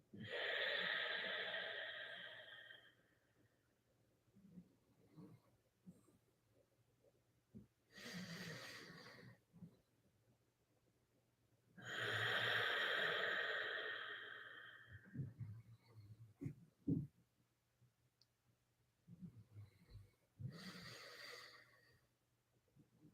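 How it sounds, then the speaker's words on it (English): A dog snores while lying near an indoor gentle yoga session, with three long, loud rasping breaths spaced several seconds apart and softer snuffles and small clicks between them. "You can hear Aussie snoring."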